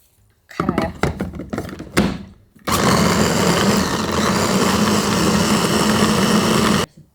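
An electric blender grinds rice cakes with a little water: several short choppy pulses first, then a loud, steady, close grinding whir lasting about four seconds before cutting off.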